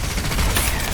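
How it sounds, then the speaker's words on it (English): Homing smart-bullet gunfire in Cyberpunk 2077, a dense, loud burst of rapid shots that blur into one continuous fusillade. "You can mark a target and then shoot, and all the bullets will go to that target."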